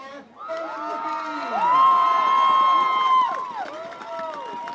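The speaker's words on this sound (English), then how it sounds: "please give everyone a round of applause" Crowd at a peewee youth football championship cheering, with high children's shouts and whoops rising into a loud sustained cheer before easing into scattered calls.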